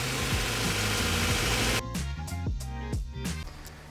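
Honda Prelude VTEC engine idling steadily up close, a continuous mid-pitched rumble with a slight lope and a few rhythmic pulses.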